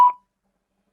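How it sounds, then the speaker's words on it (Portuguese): A KAPBOM KA-8779E 50 W Bluetooth speaker plays its power-on sound, a single short bright beep that fades within a fifth of a second, close to the microphone and followed by silence. "Esse é o barulhinho dela ligando."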